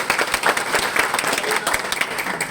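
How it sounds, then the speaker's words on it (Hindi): Audience at a network marketing seminar breaking into loud, hearty applause, dense overlapping claps close by and sustained for a couple of seconds. "विजय जी के लिए भी दमदार ताली बजाओ"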